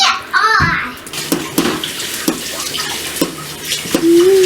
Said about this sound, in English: So now I need to add the cherries, gently fold them in, and then fill the canning jars. Just dump them in, and then I'll fold them.